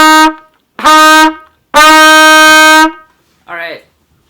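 A beginner trumpet plays two measures of Fs and Cs: a short note, a medium note, a long sustained tone, then a brief quieter note, loud and close.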